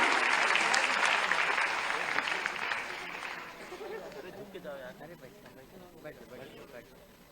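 Applause from the audience at a large government job fair in Gorakhpur, honouring young candidates who found jobs after ITI training; steady broadband clapping that starts loud and slowly fades over several seconds, with some voices underneath toward the end.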